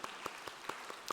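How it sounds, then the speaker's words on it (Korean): A congregation claps in welcome during a Sunday worship service at a Korean church. The clapping is quiet and sparse: about six distinct claps spaced evenly, with no voices over them. "우리 환영의 박수 하도록 하겠습니다."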